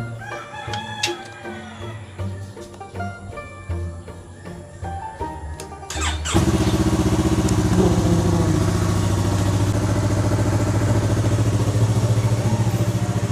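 A motorcycle engine starts and settles into a steady, loud idle, with roosters crowing in the background before and around it.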